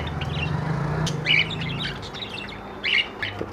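Several birds chirp and tweet in a Medinipur bird shop, budgerigars among them, with short bright calls scattered over a steady low hum and two louder bursts of chatter standing out nearby.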